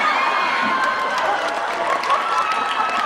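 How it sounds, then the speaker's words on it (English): A Comic Con crowd cheers and applauds: dense, continuous clapping and shouting at a steady loud level throughout, with no break. "And the crowd at the con loves it too."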